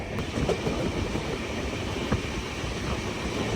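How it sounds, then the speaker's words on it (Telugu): The Shimoga Intercity train with LHB coaches rumbles along the rails at slow speed near a station, giving a steady, close, broadband rolling noise with a few faint clicks and no talk. "ఒక ర్యాండమ్ స్టేషన్ దగ్గర అయితే స్లో అయిపోయింది మన ట్రైన్."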